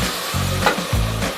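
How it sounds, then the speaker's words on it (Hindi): Onions fry in oil while a spoon slowly stirs them. A close, continuous sizzle is broken by a few soft scraping strokes of the spoon against the pan, and no voices are heard. "अब हम प्याज को भुनेंगे और आस्ता आस्ता चम्मच चलाएंगे"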